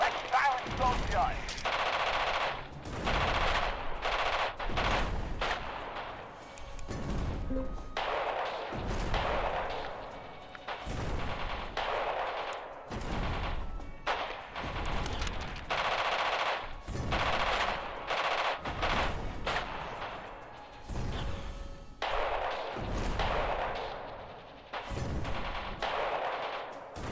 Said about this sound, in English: We're engaging an enemy artillery battery. Let's silence those guns.